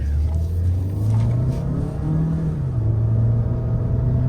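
Mahindra XUV700 petrol SUV pulls away hard in a drag race, a loud continuous engine drone rising and shifting in pitch as it accelerates, heard up close with faint voices beneath.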